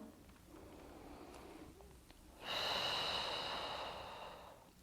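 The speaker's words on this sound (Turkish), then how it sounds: "Aldım nefes." During a gentle pregnancy exercise for scoliosis, a single deep breath is drawn in and slowly released, a soft airy rush close to the microphone following a few quiet faint sounds.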